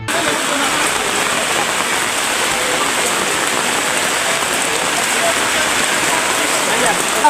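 Heavy downpour over flat low-lying ground near the Khowai River in Teliamura, a dense, steady roar of rain hitting surfaces that stays loud and unbroken throughout.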